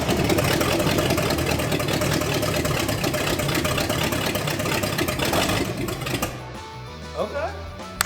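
A turbo V8 police car engine, running on temporary wiring and a carburetor, roars with a loud, dense rumble close by, then cuts off abruptly, leaving quieter background noise.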